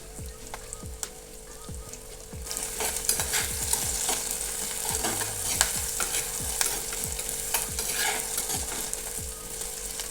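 Onions sautéing in a pan with slit green chili and curry leaves, a steady close sizzle with repeated stirring scrapes throughout, growing louder after the first few seconds.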